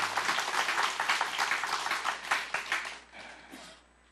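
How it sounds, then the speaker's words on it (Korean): An audience at a church family gathering claps together in a dense burst of applause that holds for about three seconds, then tapers away. "박수 한번 쳐주시죠"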